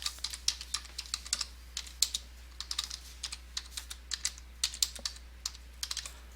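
Steady typing on a computer keyboard while writing in Microsoft Word, a run of quick, close, crisp key clicks with brief pauses and no talk.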